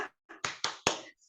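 Children clap together in a short rhythmic 'tepuk semangat' cheer pattern in a classroom, four sharp bursts of claps in quick succession at close range, with no talking over them.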